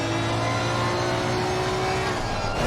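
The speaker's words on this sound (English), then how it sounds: "Yo, sounds like a Formula One car." A race car engine revs hard in a sim racing game at Donington Park, a loud sustained high-pitched whine with steady harmonic tones that shift pitch slightly near the end.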